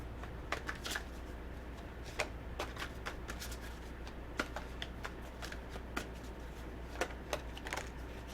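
A deck of tarot cards is shuffled and handled, giving a quiet, continuous papery riffle with regular crisp flicks and snaps over a low steady background hum.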